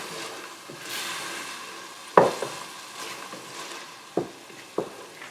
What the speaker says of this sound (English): fry this masala for about 2 to 3 minutes, not more than that.